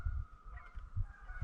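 Geese honk repeatedly on a wilderness waterway, several short calls in a loose rhythm carrying across the water at moderate distance, with no talk over them.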